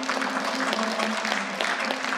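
Audience applause at a Kyrgyz-Kazakh aitysh improvised poetry contest, a steady wash of clapping across the whole stretch with a held sung or spoken tone underneath.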